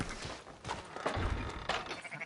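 Sheep bleat quietly in Red Dead Redemption 2, a few short, wavering calls spaced across a soft farm ambience with low thuds.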